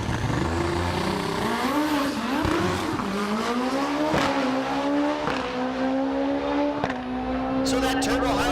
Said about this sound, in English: So that turbo Hayabusa making his way down